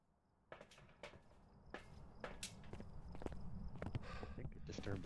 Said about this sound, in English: I heard footsteps, yeah.